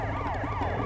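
A police car siren in GTA wails steadily with repeated rising and falling sweeps over a constant low engine rumble, loud and close, with no talking.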